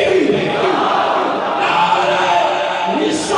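A large crowd at a religious gathering roars a loud, sustained collective slogan response, steady and continuous throughout, with voices blending into a dense chant.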